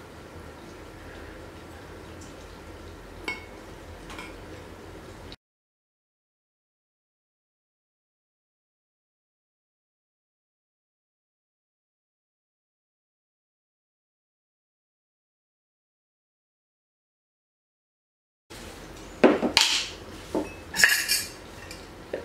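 Spoon stirring honey and flour into a sourdough starter in a glass jar, with soft scraping at first, a long silent stretch, then a burst of sharper clinks and taps of metal on glass at the end.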